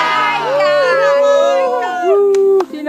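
Dogs howling in a drawn-out, wavering chorus with a few whimpers, fairly loud and close, the howls rising and falling over about three seconds before a brief sharp sound near the end.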